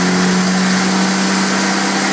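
An engine drives a 700R4 automatic transmission on a dyno in second gear, giving a loud, steady mechanical drone with a strong constant hum and no change in pitch.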